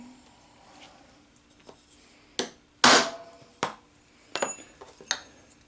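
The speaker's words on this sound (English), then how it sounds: "I use my regular center punch now to put a decent" Sharp metallic hammer strikes on a center punch, dimpling metal to set a pip for drilling in a home machine shop with an Atlas lathe; a handful of separate, fairly loud taps with gaps between them.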